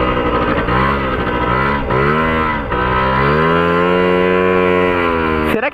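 A mini motorcycle engine runs close by with a buzzing, harmonic drone. Its pitch dips and rises with a few throttle blips, then settles into a steady rev before cutting off abruptly at the end.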